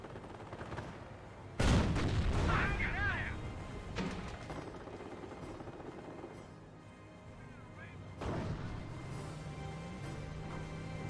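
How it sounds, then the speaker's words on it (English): On-map 25-pounder artillery firing in Company of Heroes 1, with loud booming blasts at intervals amid scattered battle noise and mechanical clatter, while a commentator talks over the action. "On-map artillery, that must be the 25-pounder."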